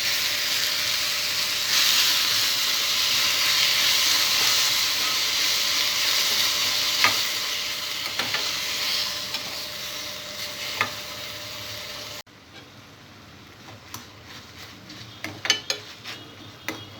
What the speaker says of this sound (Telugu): పుదీనా కొద్దిగా ఫ్రై అయిన తర్వాత టమాటా ముక్కలు వేసుకోవాలి.